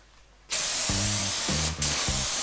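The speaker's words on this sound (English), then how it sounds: "Okay, so I've sprayed my 2K base coat down." A spray gun sprays 2K automotive paint in a steady loud hiss that starts abruptly after a quiet moment and briefly dips once, with low tonal hum layered underneath.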